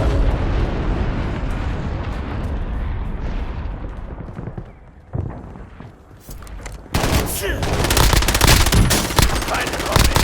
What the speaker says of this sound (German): Steh unter Beschuss.